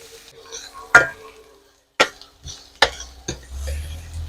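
Onions, green chili and scooped-out capsicum filling fry in a pan. A spatula knocks against the metal three or four times, followed by a soft, low sizzle.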